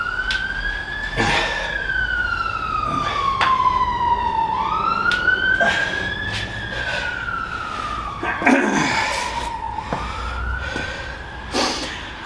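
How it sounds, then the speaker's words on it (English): A wailing emergency siren rises and falls in long sweeping cycles, loud and close, with traffic rumble underneath and a few sharp knocks partway through. "I think that's the ambulance coming for us."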